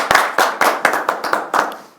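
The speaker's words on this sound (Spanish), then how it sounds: "Y un aplauso a Gloria." Handclaps from a small audience at a Banco de la República panel discussion, roughly eight sharp claps in uneven rhythm over two seconds, close and fairly loud, fading at the end.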